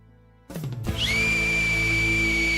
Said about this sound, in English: That was the acorn whistle